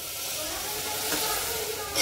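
Half a glass of water hitting a pan of hot fried spices for a potato curry, giving a loud, steady steaming hiss and sizzle that holds for the whole stretch.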